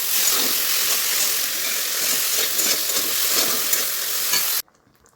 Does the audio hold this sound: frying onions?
yes